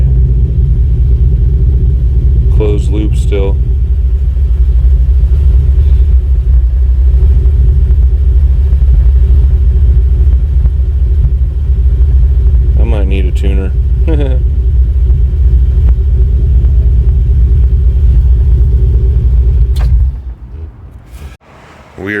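A '94 OBS truck with an LS engine swap idling rough, a loud continuous low rumble with uneven pulsing, short voice-like bursts over it, then the engine cuts out near the end.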